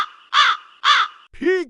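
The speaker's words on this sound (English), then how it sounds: "Crow." A crow gives two loud, harsh caws close by, followed by a third, lower and more nasal call, each separated by brief gaps, with faint background tone between them.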